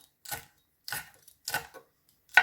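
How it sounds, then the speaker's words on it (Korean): Green Cheongyang and red chili peppers sliced with a knife on a cutting board: four crisp, close chops spaced roughly half a second apart, with silence between them and no talking. "청양고추하고 홍고추도 송송송송 썰어줍니다."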